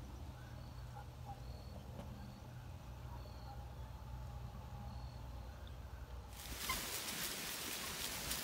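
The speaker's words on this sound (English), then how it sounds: "So I'm on the trail and it is pouring down rain." Heavy rain pours over a trail during a mountain bike ride, first a steady low rumble and then a sudden loud, dense hiss of downpour that swells in the final two seconds.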